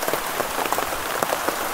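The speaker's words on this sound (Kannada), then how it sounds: "ಮಳೆ ಬರ್ತಾಯಿದೆ ಗುರು" Steady rain falling through a dense forest in Northeast India, a continuous close hiss of drops pattering on leaves with no pauses and no voices.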